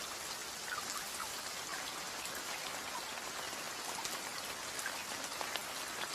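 Rain falls steadily on open grassland, a dense, even patter and hiss that holds at the same level throughout, with no voices or other sounds.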